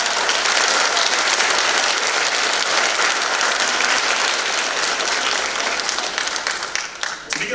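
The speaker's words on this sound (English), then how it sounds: "Now let's give them all a round of applause." An audience at a senior celebration ceremony claps loudly and steadily, with dense applause filling the hall that only starts to thin in the last second.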